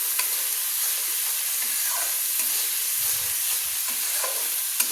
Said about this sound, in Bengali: আমি ভালো করে মশলাগুলো তেলের সঙ্গে কষিয়ে নিচ্ছি